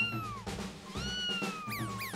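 Cartoon kitten meowing in an animated children's show: a few high, sliding meows repeated in quick succession over a bright musical backing, clear and close.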